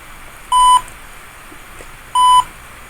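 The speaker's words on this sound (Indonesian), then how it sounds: "buzzer akan mengaktifkan bunyi sebagai tanda bahwa satu kendaraan telah terdeteksi." Two short, clear electronic beeps from the buzzer of a distance-sensor vehicle counter, each marking a detected vehicle, evenly spaced about a second and a half apart, sound loudly over a quiet hiss.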